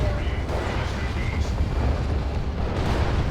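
Rocket Run strike explosions in Warhammer 40,000: Dawn of War 2 rumble as a dense, continuous barrage of booms, loud and steady throughout, with battle noise blending under a commentator's voice.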